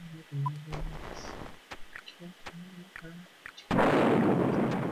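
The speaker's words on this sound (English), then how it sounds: "Oh, there go all the bombs." Bombs go off in the Macintosh video game Spin Doctor, a series of short sharp pops between game tones and blips, ending in a loud, sustained explosive roar.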